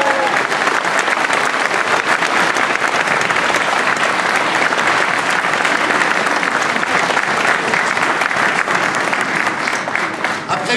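A crowd applauds a senator at a political meeting in Aulnay-sous-Bois. The clapping is loud, dense and continuous for the whole stretch, with voices mixed in.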